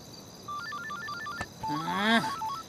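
A phone rings late at night with a short electronic melody of stepped beeps, then a rising, warbling tone. It is clear, close and alone.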